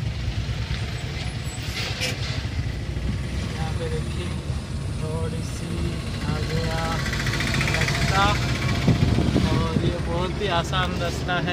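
Tata Nexon engine running steadily while the car is driven, a low continuous drone with light road rumble underneath, while someone talks over it throughout.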